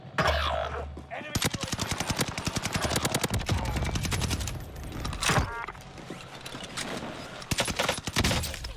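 Rapid automatic gunfire in a first-person shooter video game, loud bursts of closely spaced shots rattling on for several seconds with a short pause, and a voice talking briefly underneath.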